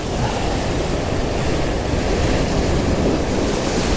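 Sea waves surge and break steadily on the shore in stormy weather, a loud continuous roar with wind noise over the microphone and no voices.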